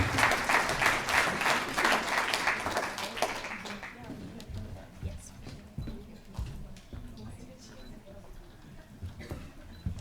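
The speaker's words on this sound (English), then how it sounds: "I'd like to give you a round of applause" An audience applauds at a business forum, a dense clapping crowd that fills the first few seconds and then fades into scattered claps and room noise.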